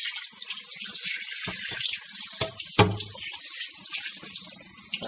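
Tap water runs steadily into a sink while a Hurom juicer part is rinsed, a continuous close hiss of flow with a few clattering knocks and splashes as the piece is handled.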